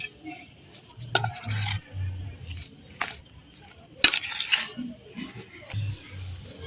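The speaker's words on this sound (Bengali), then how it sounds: "এবার আমি আলুটা ভালো করে মেখে নেব" Boiled potatoes worked by hand with cumin and garam masala powder for an aloo paratha filling, giving soft, irregular squishing and a few sharp clicks of a bowl, close and moderately loud with no talking.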